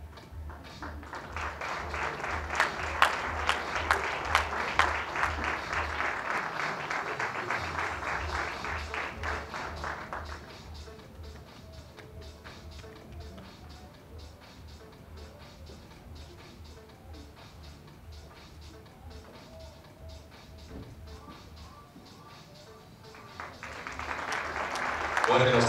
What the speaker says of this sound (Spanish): Fuertes los aplausos para el Tribunal de Cuentas Titulares